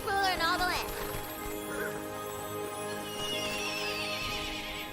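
Queen Butt Stallion, the unicorn from the video game Tiny Tina's Wonderlands, lets out a loud, close whinny at the start, then a softer neigh, over steady game music and ambience.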